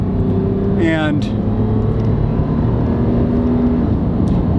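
A Toyota 4Runner engine running steadily in race mode setting 5 with the pedal about halfway down, a loud continuous low drone heard from inside the cabin, someone talking briefly over it.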